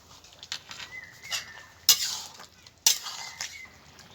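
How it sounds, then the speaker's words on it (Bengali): Whole garam masala spices being ground by hand for a raw jackfruit and coconut milk curry: light scraping and clinking with two sharp gritty crunches about a second apart, close and fairly quiet. "এখানে আমি গোটা গরম মশলা নিয়েছি, এটাকে বেটে দেবো।"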